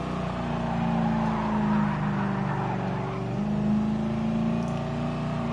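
Race car engine in the video game GT Sport, a steady droning motor with sustained tonal whine that shifts pitch slightly as the car drives, heard alone without talk.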